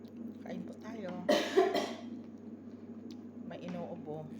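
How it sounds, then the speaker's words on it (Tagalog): A person coughs in a short burst of two or three harsh, close coughs during a dinner of corn, with chatter and eating sounds around it. "May inuubo. May nasasamid."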